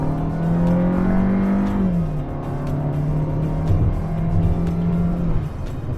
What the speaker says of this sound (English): we get a lot of turbo noise there, and the turbo is winding up and hitting a higher RPM